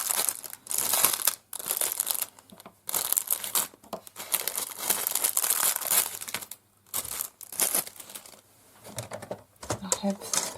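Plastic bags of a diamond painting kit crinkle and rustle as it is unpacked, close, irregular bursts of crackling with short pauses between handfuls.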